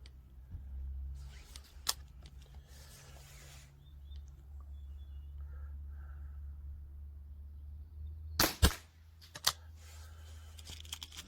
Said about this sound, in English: I need to get a silencer for this rifle, it's a bit loud, isn't it?